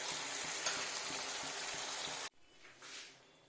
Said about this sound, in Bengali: দিয়ে এবার আস্তে করে নাড়িয়ে এটা রেখে দেবো